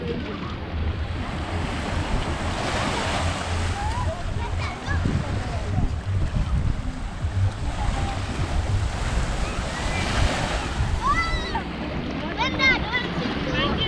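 Ocean waves surge and wash steadily on a beach in Jamaica just before a hurricane, with wind buffeting the microphone throughout and a voice calling out briefly near the end.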